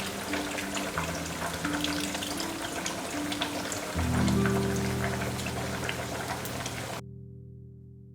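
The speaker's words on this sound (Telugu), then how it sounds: "ఇలా పులుసు మరుగుతున్నప్పుడు 2 స్పూన్లు బెల్లం పౌడర్ వేసుకోండి." Tamarind broth bubbles and simmers in a pan, a busy crackle of small pops and sizzle, steady and close, with a low hum underneath that cuts off near the end.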